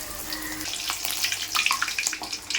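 A slice of bread dropped into hot oil fries with a dense, steady crackle, bright popping bubbles rising and falling close by with no voices.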